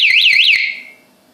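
An Antusi A6 4-in-1 bicycle anti-theft alarm blares a loud, close, warbling electronic siren with rapid rising and falling pulses, then cuts off abruptly about halfway through, leaving a quiet room.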